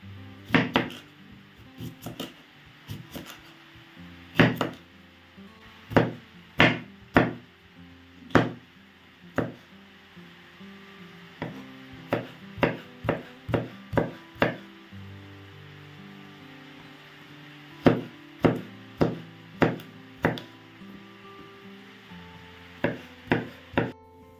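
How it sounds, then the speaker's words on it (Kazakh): A knife chopping cucumbers on a board for a Korean-style salad, irregular bursts of sharp taps in quick clusters with short pauses between, near and clear against a quiet background. "Ал енді міне екі қиярымызды турап аламыз."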